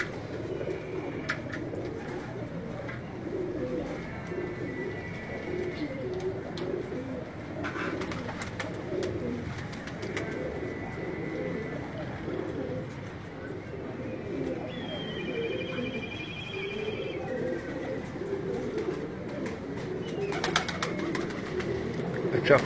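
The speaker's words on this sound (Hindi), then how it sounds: "नर कबूतर जो आपको दिखाया जा रहा है।" A male pigeon coos in a steady, layered run of low throaty rolls that continue for the whole stretch, with faint chirps from other birds and a soft background hum.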